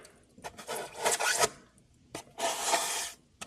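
Foam being whacked and hacked into rock shapes for an N scale model railroad, heard as bursts of dry rasping, scraping strokes in two main clusters with short pauses, fairly close and alone.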